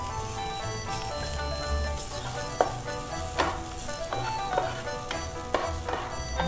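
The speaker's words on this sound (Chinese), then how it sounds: "慢慢给它炒香来，把那个香气给逼出来哦。" Minced ginger stir-fries in a pan with a steady hiss, broken by a few sharp scrapes and taps of a spatula as it is stirred.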